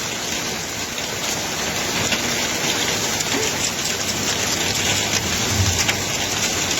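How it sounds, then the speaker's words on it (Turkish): Loud, dense downpour of rain and hail pelting a surface, a constant roaring hiss with scattered sharper hailstone impacts. "Yağmur, dolu."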